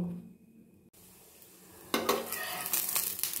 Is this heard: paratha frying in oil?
yes